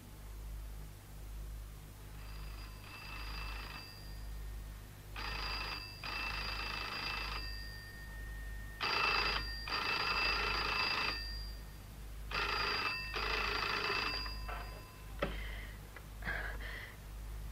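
An old-style telephone bell rings repeatedly in a crime drama, bursts of two-part trills separated by short pauses, fairly close and alone over a faint background hum.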